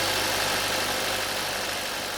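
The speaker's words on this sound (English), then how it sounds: "Hit this power button and start your engine." An RV engine running after a jump start from a NOCO GB70 jump starter on a dead battery in winter; a steady, loud idling rumble with even vibration continues throughout, with no talk.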